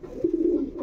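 A pigeon in a loft gives one low, rolling coo, close and fairly loud, with no talk over it.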